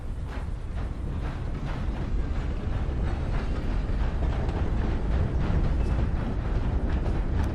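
A train passing in the video game Red Dead Redemption 2, a continuous heavy rumble with a faint rhythmic clatter that holds steady and swells slightly toward the end, with no voices.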